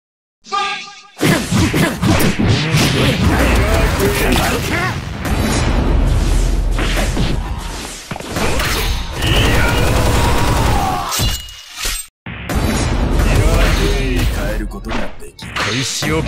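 In the fighting game Jump Force Mugen, Killer Queen's pebble bomb sets off loud explosions. Crashing booms and shattering bursts come in rapid succession, with brief gaps, mixed with game effects and a Japanese voice.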